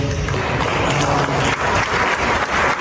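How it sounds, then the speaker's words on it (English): Applause from a studio audience, loud and sustained across the whole moment, a dense steady patter of many hands clapping with no pauses. "she's applauded for making comments like this"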